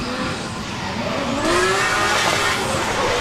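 A BMW E46 drift car pulls off the line at a drift championship qualifier, its engine note sweeping upward before a broad burst of tire noise and roar takes over, heard at a moderate distance.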